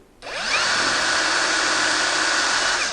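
A Dnipro-M cordless impact driver runs free in its second speed mode, a close, loud, steady high motor whine that starts abruptly and holds for nearly three seconds.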